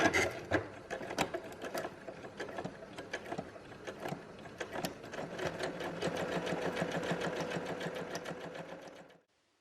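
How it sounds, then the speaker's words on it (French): A sewing machine runs a wide stitch to sew a band onto the hem of a ceremony dress. It whirs steadily and close for about nine seconds, with a few short bursts at the start, then stops abruptly. "Coudre sur le haut de la bande à 4 mm de valeur couture."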